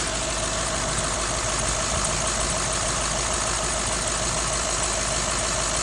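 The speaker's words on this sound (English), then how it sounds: "while the engine's just idling away, getting the thermostat open" A Range Rover L322 3.6 TDV8 diesel engine idles steadily and continuously, a close, loud rumble with a rattling knock throughout and no voices.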